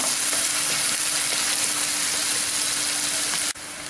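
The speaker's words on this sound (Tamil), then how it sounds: "பெரிய வெங்காயம் நல்லா கலர் மாறணும், பச்சை வாடை போகிற வரைக்கும் நல்லா வதக்குங்க." Onions sautéing in a pan for a Tamil fish curry give a steady, dense sizzle that carries on unbroken at close range and cuts off sharply near the end.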